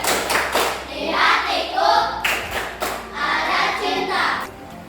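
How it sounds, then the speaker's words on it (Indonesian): A primary school class does a rhythmic clapping chant in a classroom, bursts of patterned group claps with children's voices chanting along in time. "Kita tepuk sukses dulu untuk membangkitkan semangat pagi pada hari ini."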